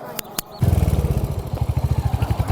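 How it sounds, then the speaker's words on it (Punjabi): A motorcycle engine catches after a couple of sharp clicks of the key and starter, then settles into a loud, close, pulsing idle with a steady rhythmic thump. "ਉਹਨਾਂ ਦਾ ਮੋਟਰਸਾਈਕਲ ਆ ਜੀ ਤੇ ਕਹਿੰਦਾ ਝੂਟਾ ਲੈਣਾ ਚਲੋ ਆਪਾਂ ਚਲਾ ਕੇ ਬਹਿੰਨੇ ਆ ਚਾਬੀ ਲਾਤੀ"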